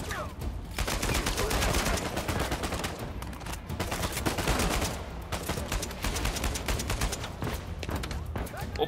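Rapid AK-47 bursts in the video game Uncharted 4, loud sustained automatic fire with brief pauses between volleys, someone talking over the shooting.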